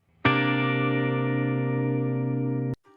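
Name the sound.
two electric guitars playing complementary chord voicings together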